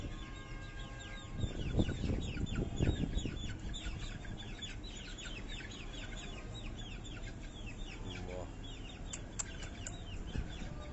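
Chickens and roosters cluck and call in a bird-keeping yard, with several overlapping clucks, a louder burst of squawking and some wing flapping, moderately close and without talk.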